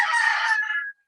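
A single loud rooster crow rings out close by, a strained cock-a-doodle-doo lasting just under a second before it cuts to silence.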